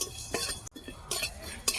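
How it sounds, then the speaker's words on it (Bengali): Whole coriander, cumin and garam masala dry-roasting in a pan, with faint scraping stirs and soft clinks of a spatula in short bursts, close and quiet. "এটা গরম মশলা, এবার এটাকে ভালো করে ভেজে নেব।"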